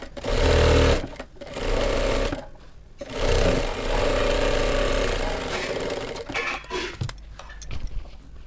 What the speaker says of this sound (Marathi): त्यावर आता प्रेस टिप घेऊन घ्यायची